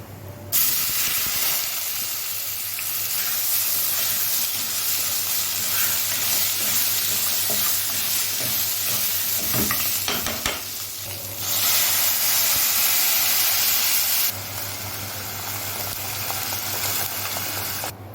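Whole spices, dried limes and cinnamon sticks, sizzle in hot oil in a pot for spiced rice, giving a steady, close hiss and crackle that briefly swells and eases.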